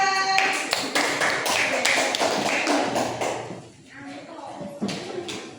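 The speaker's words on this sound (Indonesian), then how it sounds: "tepuk tangan buat kelompok 2" Children in a classroom clap together for a group in a dense, fast patter of claps that thins out toward the end, with voices talking over it.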